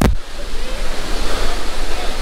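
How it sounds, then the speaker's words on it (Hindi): Neer waterfall in Uttarakhand roars as a steady broadband rush of falling water, close and loud, after a brief bump at the start. "तो वाटरफॉल का पहला स्टेज यहाँ पे दिख जाता है"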